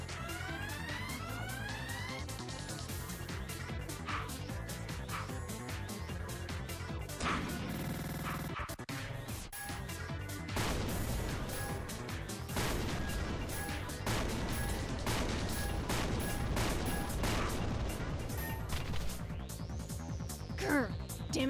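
Bombs fire and explode in the video game Noel The Mortal Fate as dense, loud crashes and bangs pile up over continuous battle sounds and music, with a heavy burst in the middle.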